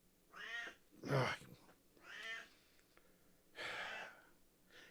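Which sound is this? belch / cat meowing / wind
cat meowing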